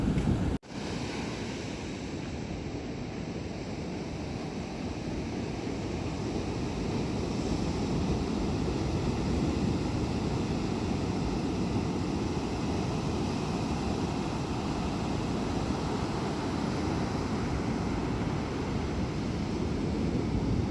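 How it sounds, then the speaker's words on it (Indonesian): Steady roar of ocean waves crashing at Kebo beach in Trenggalek, a continuous loud surf wash with wind noise on the microphone, with no voices heard. "Deburan ombaknya menghantam"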